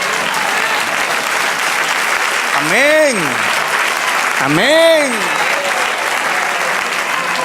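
Church congregation applauding during a worship service: steady, dense clapping fills the whole stretch while voices twice call out loudly over it.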